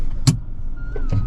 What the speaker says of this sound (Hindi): बैक गियर लग गए।